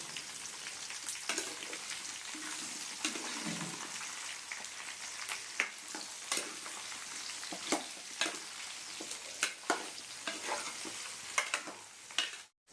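Bottle gourd pieces are stirred in a frying pan, oil sizzling steadily under repeated scraping and clinking strokes of a spoon against the pan, close and fairly quiet.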